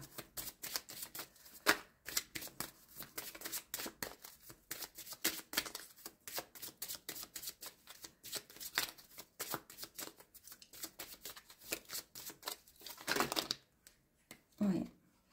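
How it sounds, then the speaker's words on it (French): Playing cards are shuffled and drawn at a tarot-style reading, giving a long run of quick papery riffles and flicks. The sound is fairly close and steady, then breaks into a few separate card slaps near the end. "On va tirer des cartes."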